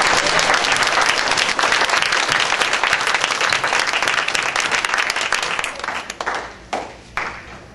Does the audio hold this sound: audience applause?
yes